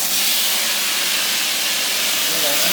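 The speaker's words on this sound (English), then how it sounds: "that's still sizzling" Onions sizzle in a hot pan, a bright continuous frying hiss, loud and close, with faint voices underneath.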